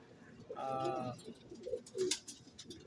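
Young pigeons coo inside a flyers loft, a low soft warbling call close by, followed by scattered quieter coos and faint rustling.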